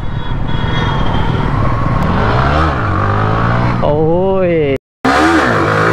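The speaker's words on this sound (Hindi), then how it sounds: "अच्छी खासी व्हीली, बहुत ही ज़बरदस्त" A motorcycle doing a wheelie stunt, with the engine revving loud and close in rising and falling sweeps, a brief dropout near the end, and a man calling out over it.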